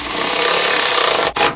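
A ratchet tightens a coilover bolt in the trunk of a Subaru BRZ, giving a close, loud, continuous rasping buzz for over a second, then a short pause and a brief final burst.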